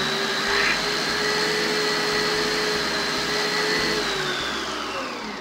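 A Cecotec Mambo kitchen robot food processor runs steadily with a loud, continuous whirring hum and a low rhythmic churning, close by, fading slightly at the end.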